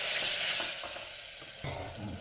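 Tomatoes tipped into a pan of softened onions for avarekalu palya, a steady close sizzle of frying that briefly shifts and swells as they land, with no talk.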